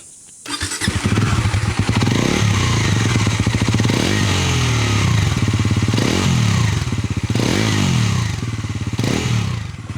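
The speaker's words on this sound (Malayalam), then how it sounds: "ഇതാണ് എക്സോസ്റ്റ് വരുന്നത്." Bajaj Pulsar NS400Z motorcycle exhaust, loud and close: engine idling with a steady low rumble, then several sharp revs that rise and fall in repeated bursts, running continuously throughout.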